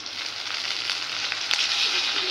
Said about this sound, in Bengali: পাঁচফোড়ন ও কালো জিরে ফোড়ন দিয়ে এখন মশলাটা কষানো হবে